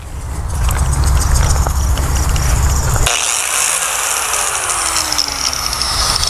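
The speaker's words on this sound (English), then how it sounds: "I got the wire wheel with the heavy duty stripper cleaner on it. We're just going to go over that rod a few times" A wire wheel loaded with heavy-duty stripper cleaner grinds rust off a metal rod from a 1968 Mercury fuel tank outdoors in a driveway, a loud continuous whirring grind whose pitch shifts partway through.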